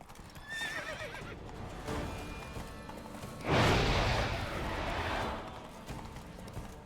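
Roach, the horse in The Witcher 3 video game, neighs and whinnies, and hooves clip-clop under a brief loud swoosh in the game's soundscape.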